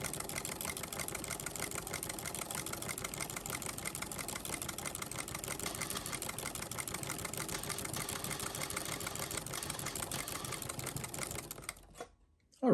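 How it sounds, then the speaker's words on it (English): A sewing machine stitches buttonholes into a Royal Navy uniform jacket, running in a steady rapid mechanical patter for about eleven seconds before stopping abruptly. "I'm going to sew an additional buttonhole going this way"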